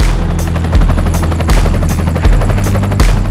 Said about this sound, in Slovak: A taktiež samozrejme Jake v helikoptére.